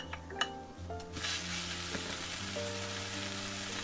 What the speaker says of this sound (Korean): 양념이 남았잖아요 이걸로 밥을 한번 볶아 볼게요